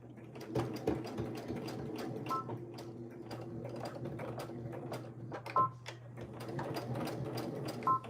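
Sewing machine stitching Dollar Tree faux leather panels, a steady mechanical hum with rapid clicking needle strokes, pausing briefly now and then before resuming, close and moderately quiet.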